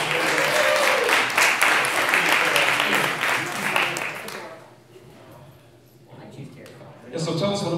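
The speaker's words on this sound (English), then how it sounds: "Round of applause." An audience at an indie game awards event claps loudly and steadily for about four seconds. The applause thins and fades, and then a voice starts talking near the end.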